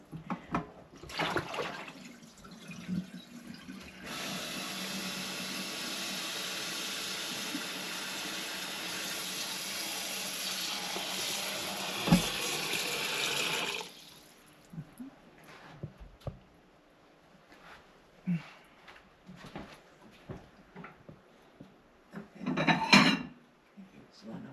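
Warm cooking water poured off from a pot into a kitchen sink, a steady splashing rush lasting about ten seconds, followed by scattered clinks and clatter of pots and utensils.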